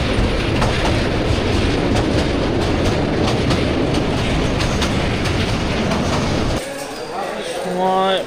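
Cox's Bazar Express running at speed between Dhaka and Chattogram, a loud continuous rumble of wheels and rails with rhythmic clatter, close from inside the carriage, then dropping away abruptly near the end as faint squealing tones appear.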